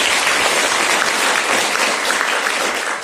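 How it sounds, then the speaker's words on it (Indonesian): An audience at a talk by a suicide survivor applauds Mas Giovanni, a dense, loud, continuous clapping that fills the whole moment without letting up. "Saya minta aplaus untuk Mas Giovanni."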